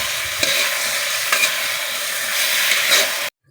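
Meat sizzles and fries in melted sugar in a pan, a steady close hiss with a few brief stirring scrapes, no voices, ending abruptly.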